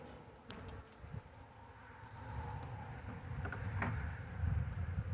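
A swarm of honeybees packed tightly in a box buzzes faintly but continuously, with soft knocks and a low rumble underneath and the hum slowly getting stronger.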